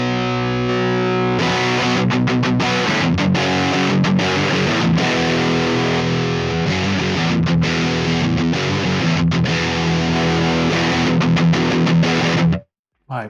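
An electric guitar plays through a Mesa Boogie Mark IIC+ amp plugin with overdrive distortion, giving a loud, sustained, heavily driven sound with rhythmic chugging that stops abruptly at the end.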